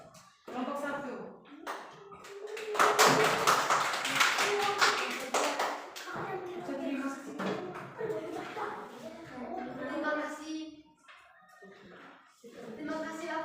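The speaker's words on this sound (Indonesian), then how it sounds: "tepuk tangan untuk kelompok" A primary school classroom breaks into applause for a student group, a burst of many hands clapping that tapers off beneath chatter and a voice speaking.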